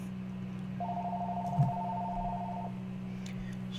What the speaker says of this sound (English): Sorry, that is my phone again